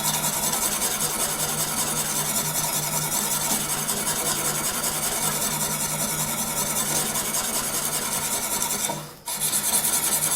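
A knife blade is stroked against an abrasive stone on a Tsprof Pioneer sharpening system, giving a continuous close, loud rasping grind that breaks off briefly near the end and then resumes.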